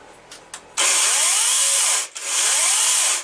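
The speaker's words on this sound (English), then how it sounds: "it runs. It's pretty quiet for a chainsaw" A 16-inch Yardworks brushless battery chainsaw whirs up to a steady high-pitched whine, dips briefly, then revs again, loud and close after a few light clicks.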